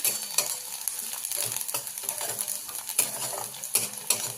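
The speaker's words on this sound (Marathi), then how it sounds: "त्याच्यामध्ये मी हिरवी मिरची दोन ॲड करते आणि चांगली भाजून घेऊया आपण" Two green chillies fry with sautéed onion in a hot pan, giving a steady sizzle broken by repeated scraping and clinking of a spatula stirring close by.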